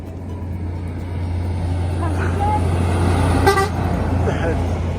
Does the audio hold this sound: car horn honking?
yes